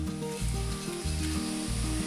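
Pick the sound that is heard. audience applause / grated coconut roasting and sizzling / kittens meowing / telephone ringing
grated coconut roasting and sizzling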